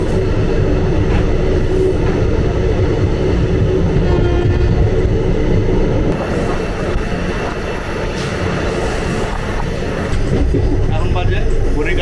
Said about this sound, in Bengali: একদম রাইট টাইম 8:50-এ হাওড়া জংশন থেকে ছেড়ে গেল আমাদের ট্রেন।